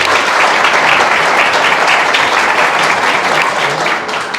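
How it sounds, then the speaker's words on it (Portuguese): A crowd applauds loudly and continuously, a dense wash of clapping that fades slightly at the end. "Vamos dar palmas para a gente também?"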